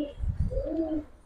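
Cooing of Pakistani kaldom pigeons kept in a loft, soft rolling coos with two rising calls, close by and alone with no talk.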